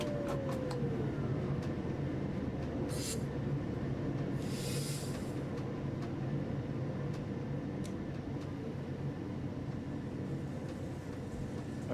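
A single powered coach rolls along in Train Sim World 4, producing a steady low rumble of running gear and track noise with a brief early squeal and a few faint hisses and clicks.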